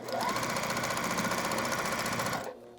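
A sewing machine stitches quilt block pieces in one quick, close burst of rapid needle strokes that runs steadily for about two and a half seconds before cutting off abruptly.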